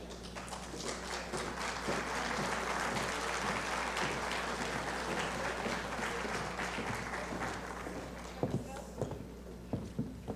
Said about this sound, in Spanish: Demos un aplauso, por favor, para recibir a nuestros ponentes y a nuestra presentadora.